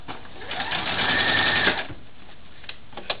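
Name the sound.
sewing machine stitching a zigzag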